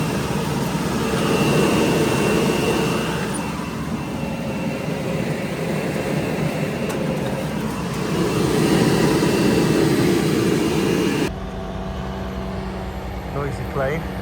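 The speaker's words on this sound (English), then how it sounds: "Noisy plane." Low, broad engine roar of an airplane passing overhead above a damp field during seed drilling, swelling and easing over several seconds before cutting off abruptly; faint voices are mixed in.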